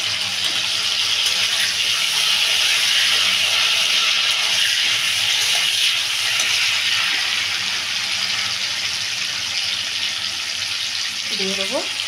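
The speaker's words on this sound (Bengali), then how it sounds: "এবার এই তেলের মধ্যে ডিমগুলো ঢেলে দেবো" Peeled boiled eggs sizzle in hot oil in a kadai for an egg curry, a steady, loud hiss and crackle running throughout, with a brief clink of utensils near the end.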